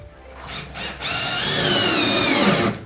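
A power drill drives a screw into a 1x4 wooden bench slat, a short start followed by a loud, steady whirring grind lasting a couple of seconds, close by.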